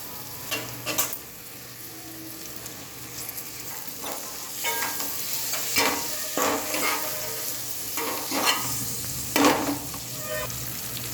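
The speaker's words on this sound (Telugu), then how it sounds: "ఆనియన్స్ ఫ్రై అయినాక కొత్తిమీర, పుదీనా వేసుకొని ఫ్రై చేసుకున్నాం 2 minutes." Onions, tomatoes, coriander and mint fry in a pan for egg biryani, a steady sizzle broken by repeated sharp scrapes of a stirring spoon, close and clear with no voices.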